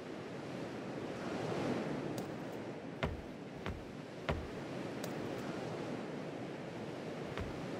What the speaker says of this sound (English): These waves are actually really big.